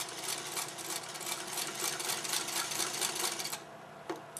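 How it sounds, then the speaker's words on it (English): A sewing machine stitches a fabric patch for a Ghostwalk quilt block, a close, rapid, even mechanical chatter that runs for several seconds before stopping, followed by a faint click. "finish sewing that patch together"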